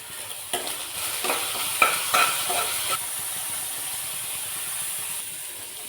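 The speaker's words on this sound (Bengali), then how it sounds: "একটু হালকা ভেজে নেব।" Maggi noodles frying lightly in a pan give a continuous hissing sizzle, with a few sharper scrapes and stirring knocks rising above it at close range.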